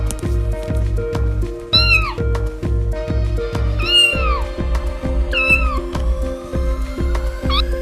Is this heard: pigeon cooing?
no